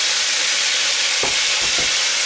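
Curry sauce for vegan koftes frying steadily in a pan, a loud continuous sizzle with a few soft knocks as ingredients are added and stirred.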